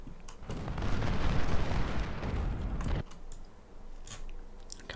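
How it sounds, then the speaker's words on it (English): Cannon artillery fire in the Civil War strategy game Ultimate General: Civil War, a dense rumbling barrage that holds steady for about three seconds, then drops to scattered distant booms and sharp shots. "Cannon's not really doing much."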